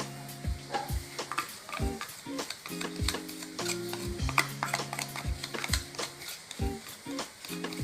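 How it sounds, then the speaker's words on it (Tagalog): Ingredients with black pepper powder stirred in a bowl until the dry ingredients dissolve, a close, quiet series of irregular spoon scrapes and clinks against the container, steady throughout with no voices. "Haluin ng mabuti hanggang matunaw ang dry ingredients."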